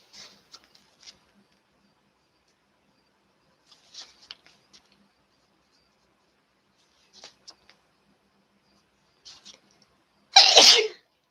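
A single loud, sharp sneeze bursts out near the end, following long stretches of near silence broken by faint ticks and small rustles.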